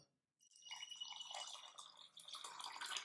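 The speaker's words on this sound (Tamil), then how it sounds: "இதை பவுலில் போட்டு நிறையா தண்ணி ஊற்றிடணும்." Water pours into a bowl of semolina (rava) for dosa batter. After a brief silence a close, trickling stream splashes and gurgles steadily, with no talking.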